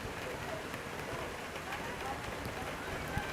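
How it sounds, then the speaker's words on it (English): Torrential rain pours steadily over the Perth Hockey Stadium during an afternoon women's hockey match, a dense, even hiss of heavy downpour filling the whole stretch with no break. "the rain really is pouring down at the Perth Hockey Stadium. Probably the heaviest it's been all afternoon. Torrential downpour"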